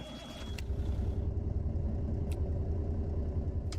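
A Kenworth W900A truck engine in American Truck Simulator idles with a steady low rumble, a continuous mid-range hum sitting over it; a few faint clicks sound, with no voices.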